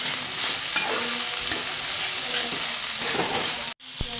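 Okra bhaji being stirred in a frying pan, with a steady loud sizzle and scraping of the spoon against the pan, then a brief pause near the end.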